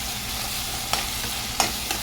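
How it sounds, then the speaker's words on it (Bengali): A spice paste for a potato curry fries in a pan, a soft steady sizzle broken by a few sharp clicks of a spoon scraping and stirring. "মশলাটা প্রায় কষে আসছে।"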